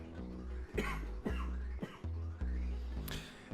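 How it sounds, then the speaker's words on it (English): Several sharp coughs break out close by, one after another at irregular intervals over a low background hum. "I am still coughing a little."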